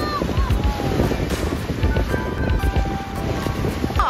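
Boat out at sea off Jeju on a breezy day, with constant wind buffeting the microphone over the churn of water and the hum of the hull, and brief faint voices in the background.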